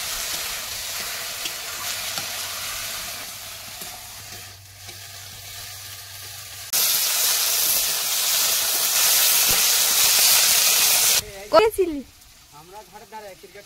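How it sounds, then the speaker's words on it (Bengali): Red amaranth greens frying with shrimp in a village kitchen, a steady loud sizzle and hiss with stirring; the sizzle jumps louder partway through, then gives way to brief voices near the end. "চিংড়ি দিয়ে লাল শাক ভাজা"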